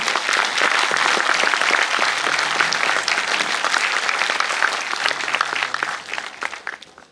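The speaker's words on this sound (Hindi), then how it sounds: "एक बार खुले दिल से हाथ खोल करके बाबा नानक दास जी महाराज का स्वागत उनके श्री चरणों में ताली बजाना।" An audience claps steadily to welcome a revered guest, Baba Nanak Das Ji Maharaj, at a religious discourse on dharma, with dense, sustained applause that thins out toward the end.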